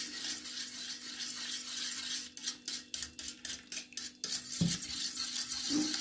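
An eggplant dish mixture is whisked with hot water, heard as a burst of rapid rhythmic metallic scraping and tapping against a bowl amid a rustling background, close and moderate.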